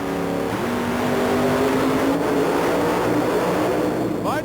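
The Outlaw Ford monster truck from Pensacola roars through a qualifying run at a 1991 USHRA Super Trax show in Philadelphia, its engine loud and close, revving steadily and rising in pitch as it accelerates.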